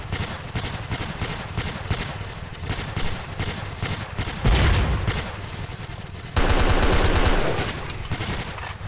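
Rapid bursts of gunfire in a shooter video game with a forest setting, dense and continuous throughout, growing heavier and louder in the second half with sustained automatic fire.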